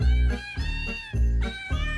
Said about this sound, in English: Could you see spending a Christmas listening to this jingle, cats?